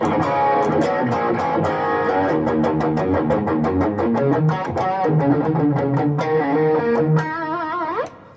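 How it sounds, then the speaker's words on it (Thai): Thick, distorted electric guitar through a BOSS ME-70 multi-effects unit chugs through a rhythmic riff with layered effects, loud and continuous, ending in a bending sustained chord. "อันนี้เป็นเสียงริทึมที่ปรับไว้จะค่อนข้างหนานิดหนึ่งนะครับ"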